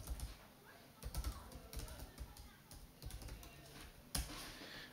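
Quick bursts of typing on a computer keyboard come in irregular runs of soft clicks, close but quiet, with a sharper keystroke near the end.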